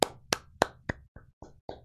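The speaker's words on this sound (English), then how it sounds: "Clap." Seven sharp hand claps in a steady, evenly spaced rhythm, close and clear with nothing else behind them.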